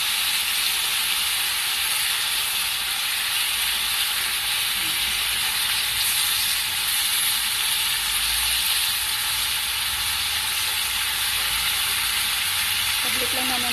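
Marinated liver sticks frying in a pan: a loud, continuous bright sizzle and hiss with steady crackle that lasts throughout, and faint occasional low sounds underneath.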